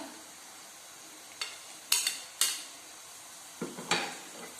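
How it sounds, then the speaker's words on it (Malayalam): Ginger-garlic paste stirred into sautéed onions in a pan for a Kerala-style chicken curry, giving a few scattered scraping and clinking spoon strikes over a soft, steady frying hiss. "നമുക്ക് ഇതിലേക്ക് ഇഞ്ചി വെളുത്തുള്ളി പേസ്റ്റ് ഇട്ട് കൊടുക്കാം."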